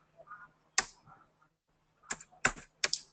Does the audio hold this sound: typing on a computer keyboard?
yes